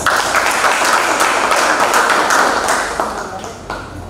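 An audience applauds at the opening of a debate competition final, a dense steady clapping that holds strong and tapers slightly toward the end.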